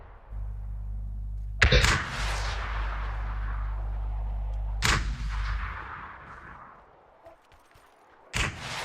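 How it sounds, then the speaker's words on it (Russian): Three heavy booming shots ring out in a shooting video game, each a sharp loud blast trailing into a long rumbling decay over a steady low droning hum, spaced several seconds apart. "Стреляй, Русланбек, но ты не попадаешь."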